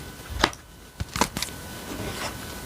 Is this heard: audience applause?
no